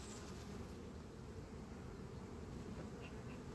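Honeybees buzz in an opened, crowded ten-frame hive, a dense, steady, close drone with no pauses or voices.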